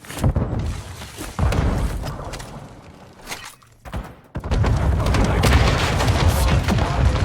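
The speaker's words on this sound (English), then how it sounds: "Grenade! Stun grenade out!" In Call of Duty DMZ gameplay, a stun grenade goes off with heavy booms and thuds amid a chaotic firefight, a brief muffled lull, then a sustained loud burst of noise.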